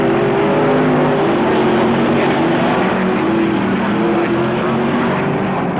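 A speedway race car engine roars steadily at Murray Bridge in 1991, a loud continuous drone that holds its level without letup, with no voices over it.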